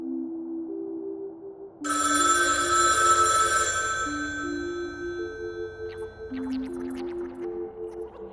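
A telephone bell rings loudly and insistently for a couple of seconds, then trails off while gentle background music plays throughout.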